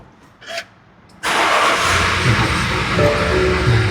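A 2020 BMW X1 sDrive20d M Sport diesel starting up: a brief click and whir, then the engine catches and settles into a steady, loud idle close by.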